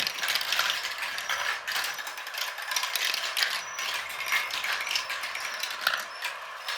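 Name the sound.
marble run elevator lifting a marble back up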